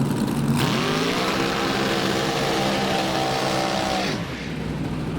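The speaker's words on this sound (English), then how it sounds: "the B-Truck Automatic rolling in on the summit side of the racetrack" A small-block-powered former Pro Stock truck with an automatic rolls in at a drag strip, its engine a loud, steady rumble close by that climbs in pitch, holds, then drops away as it eases off.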